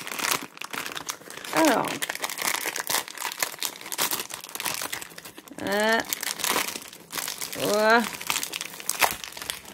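Plastic wrapping on a One Piece trading card booster pack crinkles and tears close up in several bursts, while someone speaks briefly in French over the rustling.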